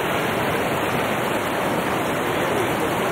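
Water rushing at a scenic river confluence spot, a dense, loud, unbroken hiss and roar close by, steady for the whole stretch without talk.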